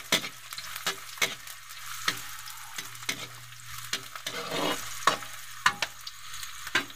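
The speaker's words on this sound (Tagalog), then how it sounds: "mainit na yung ating mantika. Gigisa muna tayo. Bawang. Sabay na natin yung ating sibuyas." Garlic and onions sauté together in hot cooking oil, a steady close sizzle with repeated scrapes and clacks of a spatula stirring the pan at an irregular rhythm.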